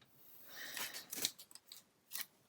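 Oramask stencil film is peeled away from its backing, producing faint, close crackling rips in short bursts with brief pauses, quiet against a soft background hiss.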